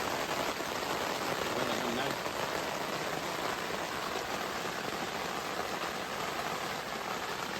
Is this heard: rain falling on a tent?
yes